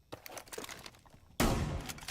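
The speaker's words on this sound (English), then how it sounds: "Like shotgun shots sound muffled." Muffled shotgun fire in the tactical shooter Rainbow Six Siege: soft, dull thuds at first, then a loud, sustained close blast that lingers to the end.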